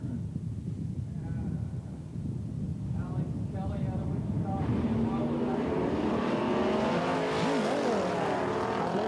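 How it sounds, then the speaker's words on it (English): A pair of 1964 Pontiac GTO cars race down a drag strip, engines rising into a loud, distant roar in the second half under faint crowd noise. "64 GTO, a pair."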